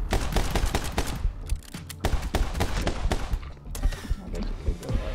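Rapid gunfire crackles in the action shooter My Friend Pedro on Xbox One, dense bursts of loud sharp shots with brief gaps, continuing throughout.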